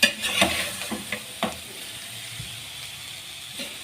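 Pasta being stirred into vegetables in a pan, with a few clattering scrapes and soft sizzling early on, fading to a quiet steady hiss; no talking.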